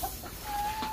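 Backyard chickens settling into their coop give a brief cluck close by, with a faint steady tone and low background noise around it.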